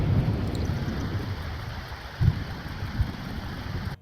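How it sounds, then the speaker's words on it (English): Steady heavy rain from a thunderstorm in The Sims 4 life-simulation game, a constant wash of downpour with a low rumbling thunder swell around the middle and a softer one later, no voices. "We are now in a lightning storm"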